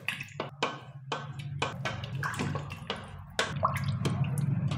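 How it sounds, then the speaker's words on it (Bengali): Water goes into a pot of spicy mutton curry, with a steady low pour running throughout and a series of sharp clinks and drips from a spoon or vessel striking the pot, close and moderately loud. "যেটা জল দিয়ে দেবো।"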